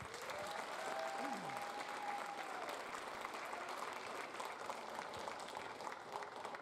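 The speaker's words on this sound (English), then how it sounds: "Can we just give the entire first group a round of applause?" A round of applause for a first group of performers at a school showcase, steady and somewhat distant clapping throughout, with a faint tonal sound drifting under it.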